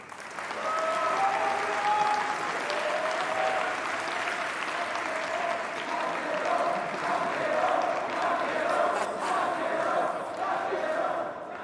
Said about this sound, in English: You just heard the crowd right there chanting his name